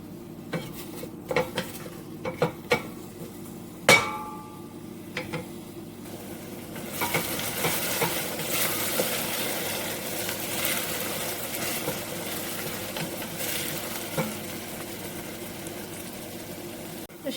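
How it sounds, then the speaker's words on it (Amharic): Onions cook in oil in a pan for Ethiopian dirkosh firfir: utensils clink and scrape against the pan in scattered knocks, then a steady sizzle of frying rises and continues under occasional stirring clatter. "ሽንኩርታችንን ዘይት ጨምረን እናበስለዋለን።"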